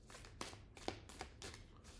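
Tarot cards are shuffled in quick bursts, four or five crisp riffling swipes with short pauses between, close and fairly soft, with no talk.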